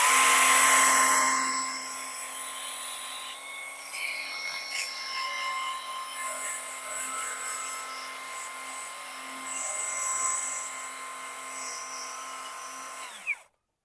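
A Vitals Master AM 1860N3 cordless battery pressure washer runs with a steady high electric motor whine and pump buzz for about thirteen seconds, then abruptly cuts off at the end.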